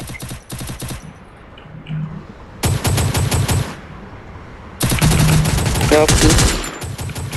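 Gunfire in an online squad video game match: loud bursts of rapid automatic fire, several sustained volleys separated by short lulls, close and dominant, with faint game sounds between.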